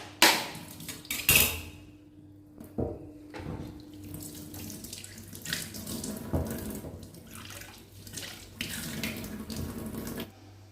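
A kitchen tap runs into a sink while fish containers are rinsed, steady streaming water broken by clinks and knocks of dishes and pots, near and moderately loud.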